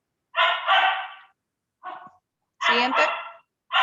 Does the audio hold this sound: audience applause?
no